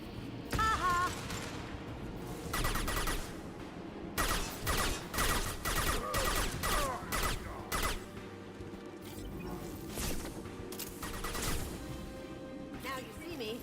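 Gunfire in the Mass Effect video game, with bursts of shots coming in clusters over a dense bed of game effects and music, loud and close throughout.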